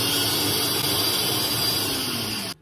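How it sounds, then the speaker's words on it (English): Ninja blender whirring through a smoothie, a loud, steady motor drone with a slight pitch shift before it stops suddenly. "Okay, now it's time we blend this smoothie. I have the Ninja."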